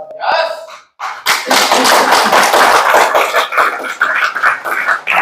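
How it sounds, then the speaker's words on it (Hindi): A crowd at a business training seminar breaks into loud, sustained clapping right after a short spoken line, the applause staying close and dense to the end. "एक बार फिर बजाओ ताली"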